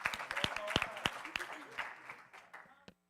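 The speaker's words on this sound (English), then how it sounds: "Give Aubrey a clap." An audience claps for Aubrey at a small gathering, a short burst of sharp, fairly close hand claps that thins out and fades within about three seconds.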